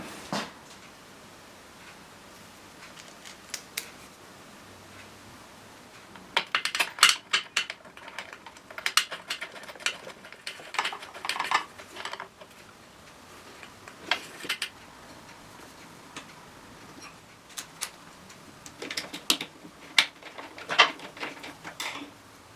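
Braided steel brake hose being fitted onto a motorbike: scattered metallic clicks, taps and clinks of fittings and tools, close by, coming in irregular bursts after a quiet start, with no talking.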